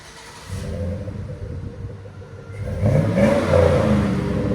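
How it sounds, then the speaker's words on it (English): A 2005 GMC Sierra with a 5.3L V8 and Flowmaster Super 50 exhaust revs up, its deep rumble building into louder rising throttle blips toward the end, close and with no talking. "FLOWMASTER Super 50 on the Sierra GMC 2005"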